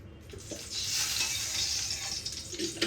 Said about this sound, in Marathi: त्या तुपामध्ये मी हे शेवया आधी गरम करून घेणार आहे